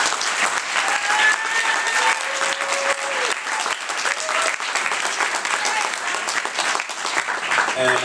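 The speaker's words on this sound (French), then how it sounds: "Si vous pouvez les applaudir un peu." Sustained audience applause at a political activist event fills the room loudly and evenly for several seconds, with faint voices and scattered whoops mixed into the dense clapping.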